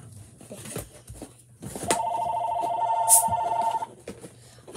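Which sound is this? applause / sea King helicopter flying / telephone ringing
telephone ringing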